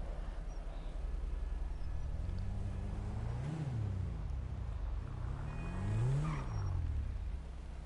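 A tuned car engine in a video game revs up and falls back twice, with the exhaust roaring in rising and falling sweeps over a steady idle, loud and close, with no speech.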